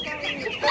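Crowded chickens clucking in the animal section of a Portuguese market, a brief burst of close, busy fowl calls with a voice mixed in.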